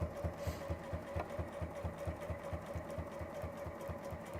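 Steady rhythmic stitching from a sewing machine working through layers of fabric, a fast even chatter of needle strokes at moderate distance, running without pause.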